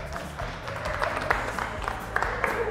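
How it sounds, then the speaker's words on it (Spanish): Audience applause at a first-anniversary celebration of a TV programme, a steady wash of clapping from a crowd that carries on evenly throughout with no talk over it. "¡Bravo! ¡Aplauso!"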